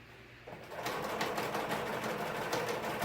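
A sewing machine runs steadily, stitching a curved corner of a window seat cushion cover along basting stitches, a close, continuous whirring hum that starts after a brief quiet moment and carries on without pause.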